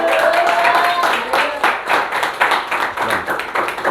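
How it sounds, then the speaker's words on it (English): Grade 10 students in a classroom give a round of applause, with brisk, uneven clapping running throughout, loud and close, with some voices mixed in at the start. "Give him a big round of applause."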